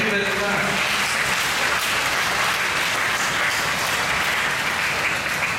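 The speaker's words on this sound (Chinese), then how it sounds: "拍拍手。" A congregation claps together during a Mandarin-language Solemnity of Christ the King Mass at a Seremban church, sustained many-handed applause filling a reverberant hall, with a voice speaking briefly over the start.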